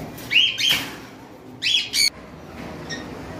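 Pet birds kept as breeding pairs at a bird farm, including albinos, give a few short, sharp chirping calls in two quick bursts, then a faint call, with some wing flutter and a quiet room behind.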